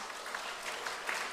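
Scattered clapping from an audience at a security civic groups' rally for free unification, a fairly thin, faint patter of hands lasting only a moment, no voices over it.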